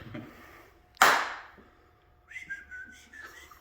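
A sharp clap rings out, followed by a couple of short, faint whistled tones trailing off after it; no talking.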